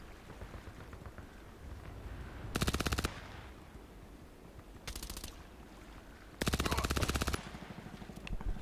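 Automatic weapon fire in the online shooter Contract Wars: three sharp bursts of rapid shots, close and loud, the last one longest, set against a steady low game ambience.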